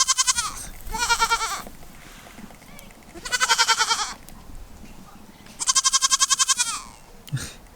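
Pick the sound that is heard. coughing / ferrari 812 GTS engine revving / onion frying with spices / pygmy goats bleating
pygmy goats bleating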